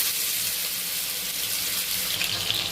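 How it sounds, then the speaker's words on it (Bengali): Chicken pieces frying in hot oil, a dense, even hiss like rushing water that holds steady and fairly loud throughout the short stretch, with no voices. "চিকেনগুলো ভেজে নিচ্ছি"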